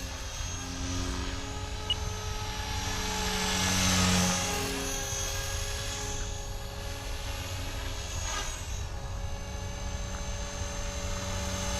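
Blade Fusion 360 RC helicopter flying on a 4-cell battery, a continuous high-pitched rotor and motor whine with steady buzzing harmonics, swelling briefly louder midway as it passes close, no voices.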